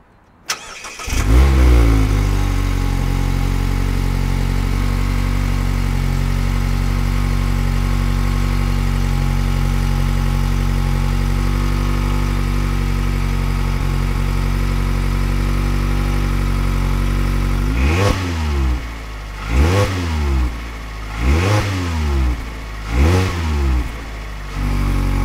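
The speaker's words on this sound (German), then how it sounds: "Alle 3 Fahrzeuge sind komplett kalt, machen also einen Kaltstart." Mazda MX-5 ND with an ULTER sport exhaust on a cold start: the engine catches and settles into a loud, steady high idle, then several sharp revs rise and fall in a row near the end.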